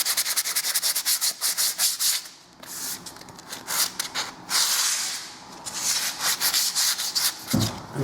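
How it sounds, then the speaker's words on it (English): Sandpaper rubbed by hand over filler ridges on a wall, close and steady: rapid back-and-forth scratchy strokes in bursts, with short pauses between passes. "just sand all them edges back."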